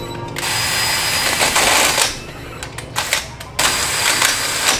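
A power drill bores through tapered steel steering spindles to open them up for a 3/4-inch bolt on a heim-joint steering setup, loud grinding whirs broken by short pauses and restarts.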